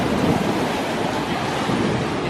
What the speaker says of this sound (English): You know, even on waves like this,